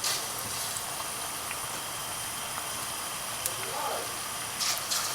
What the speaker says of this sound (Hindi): आपने एक एक स्पून करके डालना है बीच में, और इसी तरह आप डालते जाएंगे और फ्राई करते जाएंगे।